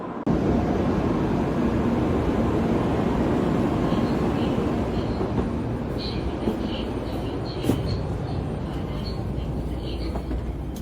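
A Shinkansen bullet train in motion in Japan produces a loud, steady rumble and whoosh heard from inside the carriage, continuous throughout with faint background voices.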